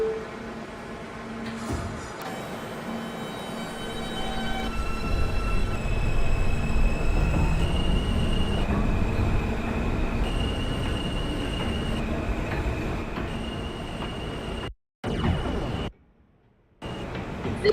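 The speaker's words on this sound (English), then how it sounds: "This is a Queens-bound J skip stop train." Simulated R160 subway train on the J line running in OpenBVE, a steady loud rolling rumble with motor whine and tonal hums, brief dropouts near the end.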